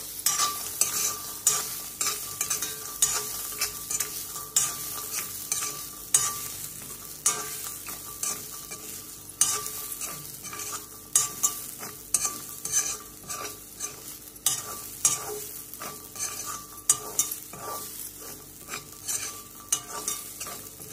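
Coconut and peanuts dry-roasting in a pan, with steady rhythmic stirring scrapes and light crackling that repeat close up for a long stretch, no voices.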